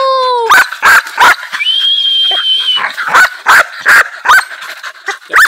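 A hunting dog being trained to hunt armadillo barks eagerly and loudly in a quick series of sharp barks, with whining and whimpering between them, close to the listener.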